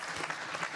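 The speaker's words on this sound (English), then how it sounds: "Applause for frame ball." Brief burst of audience clapping at a snooker match, a short steady patter of applause for frame ball.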